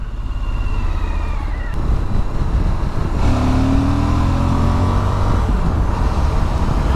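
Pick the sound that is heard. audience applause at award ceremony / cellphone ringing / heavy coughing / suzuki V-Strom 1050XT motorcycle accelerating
suzuki V-Strom 1050XT motorcycle accelerating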